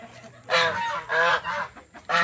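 A few loud, honking turkey calls ring out one after another on a backyard farm, close by, each a harsh nasal burst with short gaps between.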